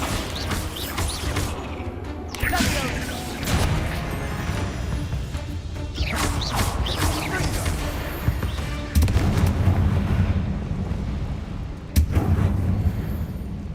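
Bombarda explosion spell cast during Hogwarts Legacy gameplay on PS5, a series of loud booming blasts and crashing debris spread through the clip amid game effects.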